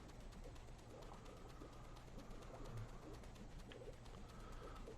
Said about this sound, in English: Come back here, bird.